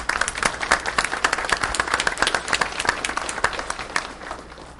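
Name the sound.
applause for the students at a school board meeting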